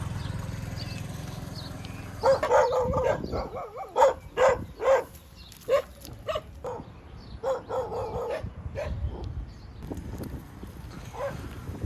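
Several dogs bark in a rapid burst of loud, overlapping barks that trail off into scattered distant yaps, in a village on the outskirts of a city in Thailand.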